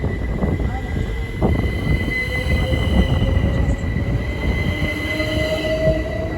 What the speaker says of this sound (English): Now departing is the 1315 Great Northern service from Ely to London King's